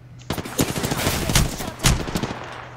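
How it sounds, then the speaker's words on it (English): Gunfire in the video game Apex Legends, a burst of rapid shots followed by two louder heavy cracks over a low steady hum, close and punchy, with no talking. "I'm getting shot."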